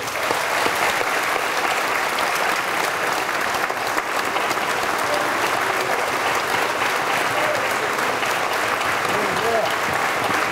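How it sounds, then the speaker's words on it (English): Loud, sustained applause from mourners at a eulogy, thick continuous clapping that holds steady for several seconds with faint crowd voices beneath. "we could greet him with the biggest round of applause"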